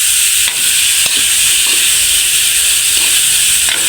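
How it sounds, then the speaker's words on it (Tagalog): A pot of Tagalog-style batchoy soup being stirred, giving a steady broadband simmering hiss with a few soft scraping knocks of the spoon against the pot. "Halo-haloin na natin ng konti."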